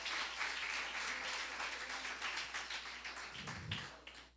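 Congregation applauding in a church service, a dense steady wash of clapping hands that holds for several seconds and tapers slightly toward the end, with no talk over it.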